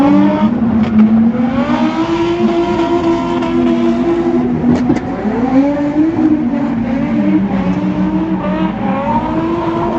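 Drift cars in the Pro Light class at an Ultimate Drifting Challenge round rev hard and loud, with engine pitch rising and falling repeatedly as they chase through corners, and a brief sharp burst midway.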